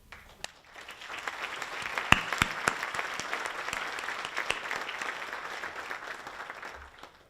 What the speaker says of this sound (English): They all deserve an applause.